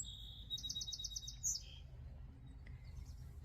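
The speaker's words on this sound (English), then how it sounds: "And there's birds and they're happy." Birds along the Appalachian Trail give a quick run of high, thin chirps, faint and somewhat distant, over a low outdoor rumble that continues after the calls stop.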